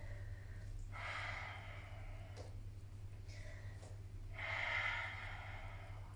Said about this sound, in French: N'oublie pas la respiration Ujjayi.